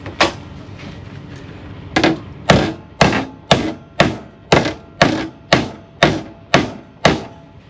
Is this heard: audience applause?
no